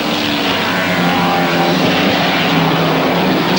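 A 5.7-litre V8 Chevrolet Camaro races in the 1971 saloon car championship, its engine a loud, continuous roar that holds steady throughout with no break or lull.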